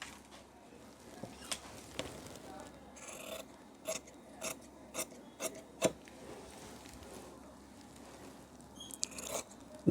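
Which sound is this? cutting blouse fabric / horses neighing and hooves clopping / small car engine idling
cutting blouse fabric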